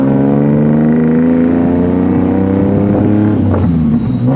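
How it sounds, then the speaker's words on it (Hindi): A tuk tuk ride through Bangkok, its small engine droning loud and close with a steady harmonic hum that shifts pitch slightly as it revs and accelerates, with no talk. "और वहाँ से टुक टुक राइड हम लोगों ने लिया"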